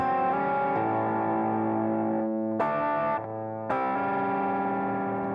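An electric guitar plays a short southern rock lick slowly, a handful of sustained notes with slides and a brief pause, clean and slightly chorused, no voices.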